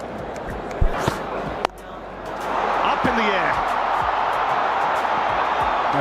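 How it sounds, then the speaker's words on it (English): A dense, noisy crowd roars steadily in a packed cricket stadium during the IPL 2025 final between RCB and PBKS, swelling loudly after a shot, with a commentator talking over it. "A lot of noise today in this crowd."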